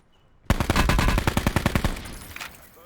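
Rapid automatic gunfire in the video game Call of Duty Blackout, a loud burst of about a dozen closely spaced shots that start abruptly and fade out in a trailing echo.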